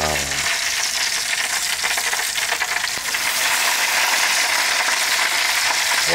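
Meat grilling on a grill, a dense, continuous hiss of sizzling fat with faint crackles, close and steady throughout with no talking.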